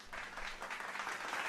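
An audience claps for an intern, a steady, even patter of applause at a moderate distance that carries on without a break.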